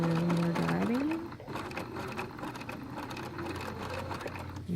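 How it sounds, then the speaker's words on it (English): A sewing machine stitches binding onto a quilt, a steady close mechanical hum with rapid needle chatter, rising in pitch as it speeds up, then running evenly throughout. "all I need to do is just sew right on that line. And we're driving."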